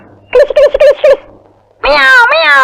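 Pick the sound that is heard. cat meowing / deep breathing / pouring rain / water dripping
cat meowing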